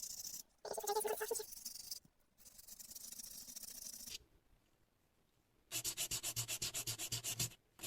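Fine sandpaper rubbing across a handmade Totoro calendar craft piece, steady scratchy strokes in bursts with brief pauses, ending in a quick run of short rhythmic back-and-forth swipes, close and fairly quiet with no talking.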